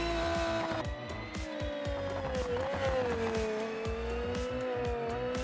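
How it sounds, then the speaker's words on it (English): Lamborghini Huracan GT3 race car in the BeamNG Drive driving game, its engine note rising and falling through gear changes with tire squeal, loud and continuous throughout. "pushing the Huracan as a full GT3 race car"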